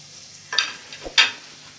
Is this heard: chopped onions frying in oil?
yes